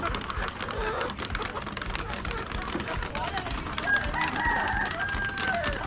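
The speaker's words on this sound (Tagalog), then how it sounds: "So, para ito ang manok kandiri." A rooster crows among a flock of farm chickens, its drawn-out call rising late in the clip above clucking and rustling, while a person talks nearby.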